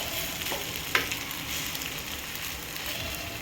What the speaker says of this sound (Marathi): तर हे आपण 10 मिनिट ठेवूया फ्राय व्हायला.